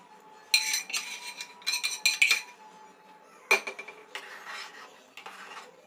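Rice and masala-coated eggs for egg biryani stirred in a cooking pot, giving bursts of metallic clinks and scraping from the spoon against the pot, with quiet pauses between strokes.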